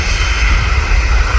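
Steady, loud roar of a Jet2 Airbus A330 jet taking off from Manchester Airport, heard from a nearby viewing park as a continuous broad rumble with no pauses or voices.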